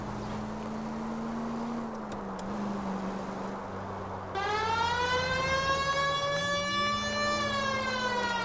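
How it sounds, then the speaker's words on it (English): Police car siren from the video game L.A. Noire wails steadily and loudly, a rising and falling tone over a low engine drone that swells stronger halfway through, with no talking. "If you use the siren, maybe those metal things in front of you called cars would know you're in a hurry."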